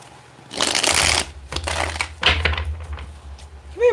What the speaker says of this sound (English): And get one more good shuffle here.